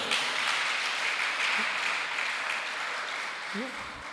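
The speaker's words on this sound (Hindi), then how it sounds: "ये ताली कहां बजा के सीख के आए हो?" An audience claps continuously at a religious discourse in India, a dense steady roar of many hands that slowly fades, with a voice briefly heard over it.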